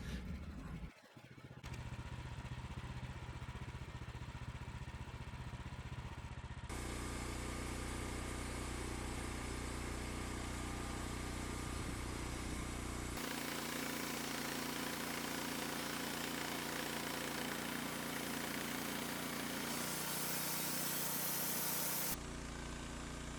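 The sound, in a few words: Woodmizer sawmill cutting a log into lumber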